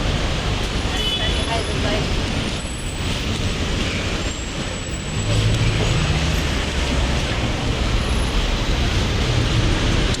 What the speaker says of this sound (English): So much traffic